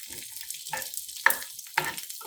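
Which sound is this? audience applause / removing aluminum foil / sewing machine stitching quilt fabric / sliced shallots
sliced shallots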